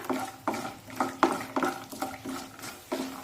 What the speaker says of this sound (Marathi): आता मध्या माचेवर हे काजू आणि शेंगदाणे छानपैकी परतून घेऊया